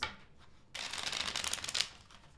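Tarot cards being shuffled by hand at a reading, a soft riffling burst of papery flutters heard close and fairly quiet, with no voices.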